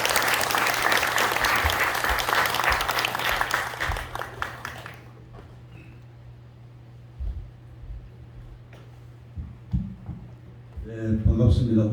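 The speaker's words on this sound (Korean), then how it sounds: "여러분 홍영표 회장님을 큰 박수로 부탁드리겠습니다" A forum audience breaks into loud, dense applause for about five seconds to welcome a guest speaker, which then fades into room noise with a few scattered claps and handling sounds.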